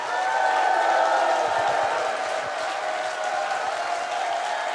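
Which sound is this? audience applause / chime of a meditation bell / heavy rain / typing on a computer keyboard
audience applause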